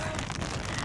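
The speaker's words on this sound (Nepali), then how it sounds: "पानी पर्यो टप टप टप" Rain pours down outdoors at a scenic lake in Korea, a steady, dense hiss of drops striking nearby surfaces that stays even and close for the whole short stretch.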